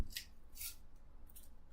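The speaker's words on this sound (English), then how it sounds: "I'll take this top layer off here." Dry outer skin being peeled off half a red onion gives a few faint, crisp crackles and rustles in quick succession at close range, with no talking.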